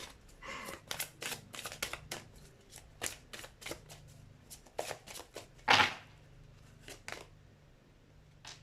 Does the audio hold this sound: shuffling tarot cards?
yes